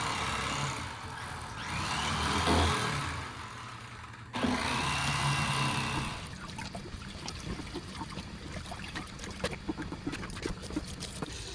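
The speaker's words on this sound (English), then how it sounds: "Got the electric fillet knife, got the crappies. Let's get these things cleaned up." An electric fillet knife buzzes steadily while cleaning crappie at a kitchen table, its motor whine loud at first, then stopping and restarting before giving way to wet scraping and clicking sounds of the fish being handled.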